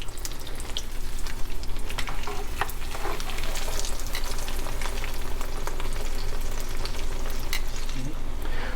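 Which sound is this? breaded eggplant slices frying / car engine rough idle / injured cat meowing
breaded eggplant slices frying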